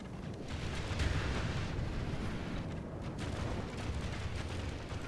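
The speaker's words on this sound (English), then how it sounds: "Alright, ballistas are firing. Hopefully we can hit something." Ballistas firing during a battle in the video game Third Age Total War, a steady, moderately loud rumbling din with scattered dull impacts, with no talking.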